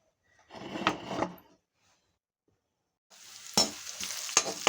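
Onions fry in a pan on a home kitchen stove and are stirred in two separate bursts of sizzling and scraping with a silent gap between them, the second burst louder and sharper with distinct knocks of the utensil.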